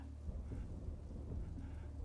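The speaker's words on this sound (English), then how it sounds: "Days like today when it rains." Rain falls during a thunderstorm, with thunder rolling as a deep, continuous low rumble under a soft, steady hiss of rain, fairly faint and with no voices.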